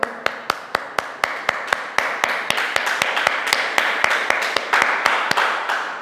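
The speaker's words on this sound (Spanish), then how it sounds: "Así que un aplauso." Audience applause begins as sharp, evenly spaced rhythmic claps, then thickens into a fuller wash of clapping hands, close and fairly loud.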